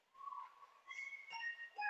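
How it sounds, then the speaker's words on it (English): A referee's whistle sounds at an ice hockey game between youth teams, with several sustained shrill tones in quick succession, moderately loud over faint arena ambience. "And then we have another whistle."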